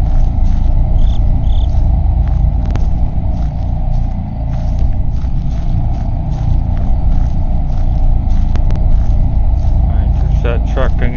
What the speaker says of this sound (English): there's that truck again